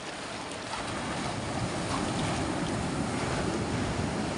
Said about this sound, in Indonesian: Ombaknya lumayan besar.